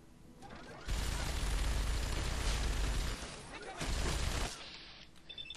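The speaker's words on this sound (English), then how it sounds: "So here I do VATs with a minigun." A minigun firing in VATS in the video game Fallout 3, with a loud, sustained roaring burst of rapid fire, a short pause, then a second shorter burst.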